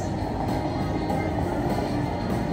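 A slot machine game's train sound effect plays as a steady, dense rumbling clatter, moderately loud and continuous for a couple of seconds with no voices.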